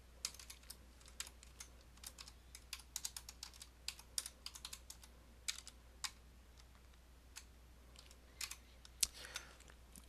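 Code being typed on a computer keyboard: quiet, irregular clusters of close key clicks over a faint low hum, with no talking.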